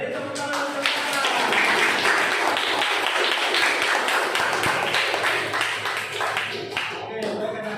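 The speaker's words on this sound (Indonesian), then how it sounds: "Oke, beri tepuk tangan untuk Akbar." A classroom of students claps for a classmate in an Islamic history lesson, uneven claps of varying loudness running for several seconds with children's voices mixed in.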